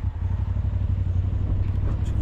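A motorcycle engine drones nearby on an off-road ride in the rain on Mt. Banseg, Tineg, Abra, with a low, pulsing putter, steady throughout, with faint talk and clatter mixed in.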